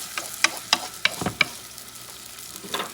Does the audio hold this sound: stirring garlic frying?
yes